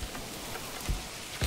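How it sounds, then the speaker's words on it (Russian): Steady rain falls in the medieval city-building game Manor Lords, a soft continuous hiss with a few faint drop-like taps, low and even throughout, with no voices. "Дождик пошел."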